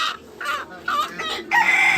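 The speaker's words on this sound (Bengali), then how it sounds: "দেশি মুরগি করছে দেখেন" Native chickens clucking and crowing in several short, loud bursts close by, with brief pauses between calls.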